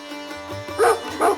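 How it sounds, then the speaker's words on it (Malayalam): Two sharp dog barks close by, a short pause between them, over a low background hum. "പരിചയമില്ലാത്ത എന്നെ കണ്ടപ്പോൾ പട്ടി രണ്ട് കുര കുറച്ചു"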